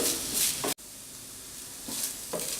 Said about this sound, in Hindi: 1 मिनट के लिए हमने पनीर को अच्छे से फ्राई कर लिया है इसमें।